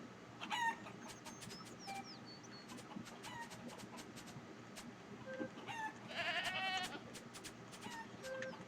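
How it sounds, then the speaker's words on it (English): Goat bleats and chicken clucks from the Fortune Summoners video game sound in a farm scene, with repeated short animal calls over light background music and a louder burst of clucking near the end. "How come goats only say bleh?"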